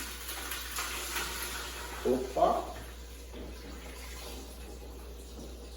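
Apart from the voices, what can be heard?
water poured into pot for chicken soup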